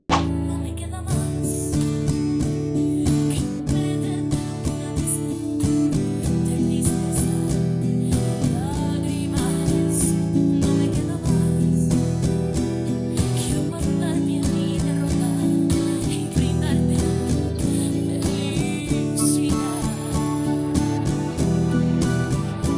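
Acoustic guitar strumming the first-verse chords of a song at a steady, unhurried pace, close and clear, with sustained ringing chords and no voice over the playing.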